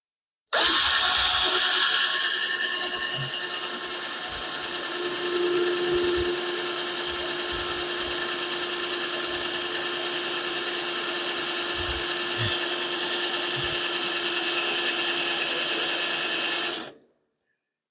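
A power drill with a step (Christmas tree) bit bores holes in metal during an engine test-stand build, a loud steady whine running unbroken for about sixteen seconds before cutting off abruptly.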